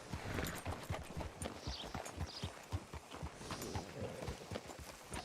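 Horse hooves clip-clop steadily in a rhythmic walking gait in Red Dead Redemption 2, close and continuous, with a faint background bed and no talk.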